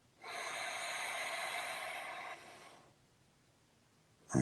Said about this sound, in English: And inhale and exhale.